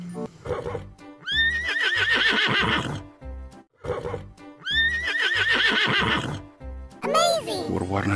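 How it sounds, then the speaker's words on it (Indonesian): A toy horse gives loud, repeated electronic neighs and whinnies, several calls in a row with short gaps, alongside clip-clop hooves; a voice speaks nearby. "ini hewan kuda."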